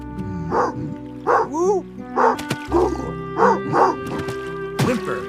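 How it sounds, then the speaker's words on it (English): A dog barks in a series of short yaps and whines, fairly close, with a steady tone humming underneath. "So he opened his mouth to bark at the other dog."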